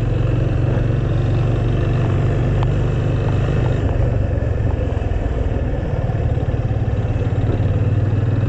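A 2019 250cc motorcycle runs steadily with a constant mechanical whir and rattle of the drive chain and sprocket layered over the engine drone, close and loud.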